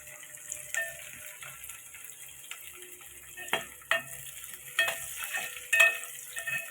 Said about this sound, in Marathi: मिरची टाकलेली आपण ह्याच्यात लाल करून घेऊया